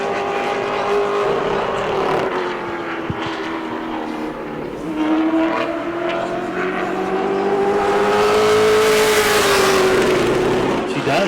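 A Pro Late Model race car on a qualifying lap at New Smyrna, its engine droning steadily and rising as it circles the track, with a commentator talking over the sound.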